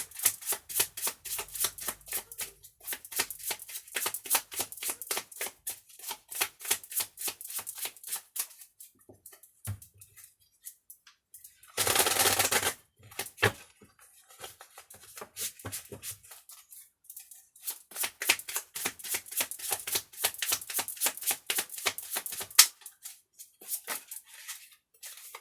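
Tarot cards are shuffled and riffled in quick, papery bursts that come and go, with a short dense rush near the middle and quiet pauses between runs of flicking and slapping.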